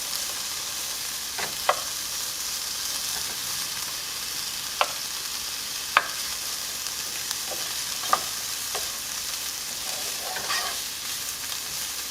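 Garlic, onion, chile and tomato sauté in a pan with a steady low sizzle, punctuated by scattered light taps and scrapes of a utensil stirring the vegetables.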